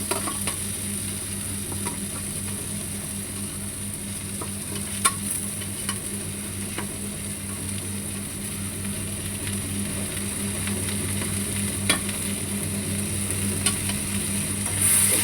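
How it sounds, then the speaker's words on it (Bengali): Pieces of pointed gourd frying with spices in a pan, a continuous close sizzle with occasional sharp clicks of stirring, steady throughout with no talking. "পটল একটু নাড়াচাড়া করবো"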